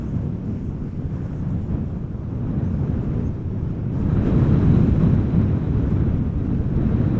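An EasyJet Airbus A320 departs Amsterdam Schiphol, heard as a broad, distant jet roar that swells gradually, buffeted by steady wind noise on the microphone.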